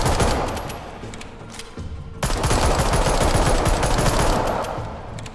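Rapid, dense automatic gunfire in the VR zombie shooter Arizona Sunshine, sustained bursts filling the whole stretch with a brief dip before a louder continuous volley.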